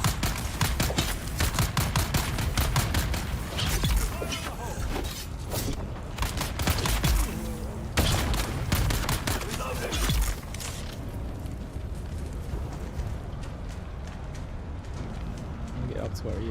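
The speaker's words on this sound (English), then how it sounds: "Trying to shoot me." Incoming gunfire in the game Dune Awakening, a dense run of rapid shots and bursts that carries on for several seconds before thinning out, with a voice talking over it.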